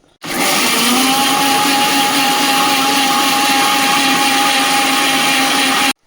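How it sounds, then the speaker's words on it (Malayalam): A mixer grinder jar whirs steadily, grinding coconut, shallots and cumin with water for a moong dal curry, loud and close, starting abruptly and stopping cleanly after about six seconds. "കുറച്ച് ജീരകം ഇത്രയും കൂടെ മിക്സിയുടെ ജാറിലിട്ട് കുറച്ച് വെള്ളം കൂടെ ഒഴിച്ച് നല്ലതുപോലെ അരച്ചെടുക്കാം"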